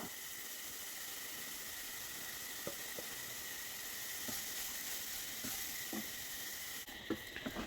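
Roasted coconut sizzles with grated carrot in hot ghee, a constant soft hiss with a few faint spoon taps, with no talking.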